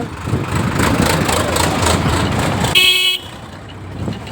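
A big tractor trolley rumbles along a village road in Sihal, its engine loud and close, with a short horn-like tone near the end before the sound falls away to a quieter background.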